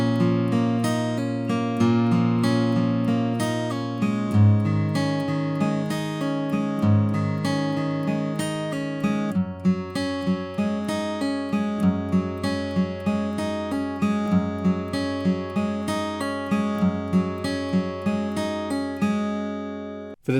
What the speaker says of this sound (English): So the pre-chorus flat picked would sound like this.